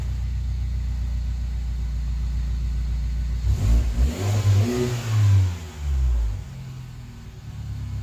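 A 2015 Mini Cooper Countryman S JCW with a Borla exhaust rumbles at a steady idle, then revs up in a few loud, close throttle blips before settling back to a low idle.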